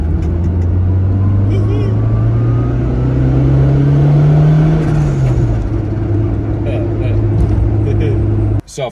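Turbocharged Honda Civic with an eBay turbo and wastegate accelerating in first gear, the engine note rising steadily to a loud in-cabin drone, then easing off as revs drop, with speech heard over it.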